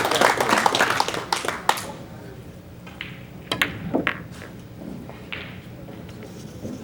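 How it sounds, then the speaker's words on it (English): Brief scattered clapping from spectators at a 10-ball pool match, loud at first and then thinning into a few isolated claps, with a commentator talking over it. "give him some applause, people"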